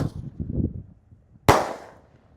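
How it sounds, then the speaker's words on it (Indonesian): Smoke-ball firecrackers set off inside a watermelon, with a voice counting down first and then a single sharp, loud close bang followed by a short decaying rattle. "eksperimen menyalakan mercon smoke bell di dalam buah semangka"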